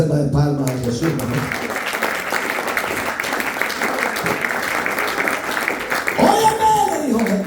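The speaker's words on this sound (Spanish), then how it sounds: "Hay una ofrenda de palmas a Jesús" A church congregation applauds in a sustained wash of clapping that lasts several seconds, with a voice speaking at the start and again near the end.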